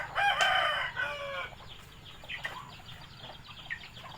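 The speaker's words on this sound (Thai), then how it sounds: "มีไก่ลายอีก" A rooster crows loudly at the start, followed by scattered clucking from several chickens at moderate distance.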